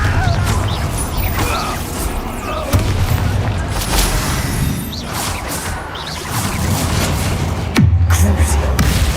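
Confringo fire spell explosions in the Hogwarts Legacy video game, with loud booming blasts and whooshes over dense combat noise and game voices.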